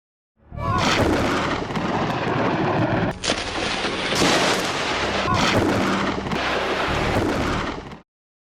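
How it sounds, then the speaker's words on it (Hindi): Thunder rumbles and booms across the sky in a loud, continuous roll lasting several seconds, with heavier cracks and surges partway through and no voices. "क्या गुस्से में गरजता है आसमान?"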